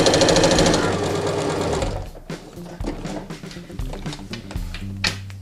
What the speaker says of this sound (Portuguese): A gente vai começar sempre o pezinho da máquina. Nós vamos começar aqui na metade, ok? E vamos costurar.